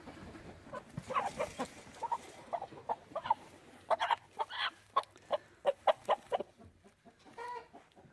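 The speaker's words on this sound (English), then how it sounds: "go ahead and catch the rooster first." Chickens cluck and squawk in quick, agitated bursts, with a rooster's harsh calls among them, close by and loud, as the birds scramble while the rooster is caught.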